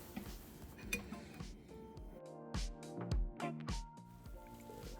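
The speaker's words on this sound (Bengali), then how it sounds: "আট মিনিট হয়ে গেছে আমি এবার ডালটা বের করে নিচ্ছি" A bowl of cooked lentils lifted out of a microwave in a home kitchen, giving soft clinks and knocks of dishware, a thud or two, and faint ringing tones, close by and without speech.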